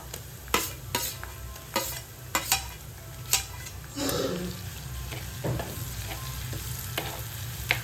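Crushed shallots fry in a pan: sharp clacks of a spoon against the pan come first, then a burst of hissing sizzle that settles into a quieter frying crackle.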